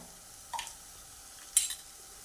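A spoon stirs garam masala into a potato curry with tomato in a pan, giving two brief scraping, rustling strokes about a second apart over near-silence, faint and close, with no talk.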